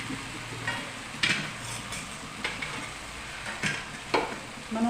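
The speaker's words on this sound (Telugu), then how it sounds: "ఇప్పుడు మనం మ్యాగ్నేట్ చేసి పెట్టుకున్న చికెన్ దీంట్లో వేసుకుందామండి" Marinated chicken coated with salt, chili and ginger-garlic paste fries in a pan with a steady soft sizzle, while a spoon scrapes and stirs in several distinct strokes.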